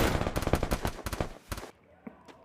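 Rapid bursts of automatic gunfire in a 4v4 video game match, a quick run of sharp shots that stops abruptly, followed by a couple of faint distant pops.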